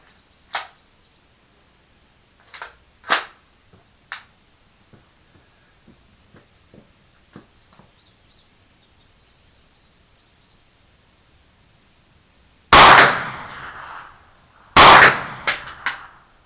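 Gunshots from a Kel-Tec Sub 2000 9mm rifle fired outdoors: a few faint, spaced shots early on, then two loud, close reports a couple of seconds apart near the end.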